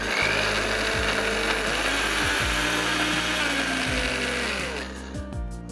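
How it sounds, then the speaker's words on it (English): A blender grinds torn wholemeal bread into breadcrumbs, a loud continuous whirring motor with rattling, knocking chunks that gradually thins toward the end. "Then we want to blend this into breadcrumbs."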